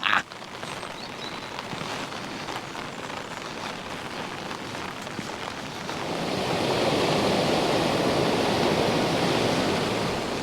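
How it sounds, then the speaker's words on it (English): Water rushes steadily over a river weir on a rural walking route beside a small hydro power turbine, a broad, continuous roar that swells louder partway through, with no talking. "This is the Weir"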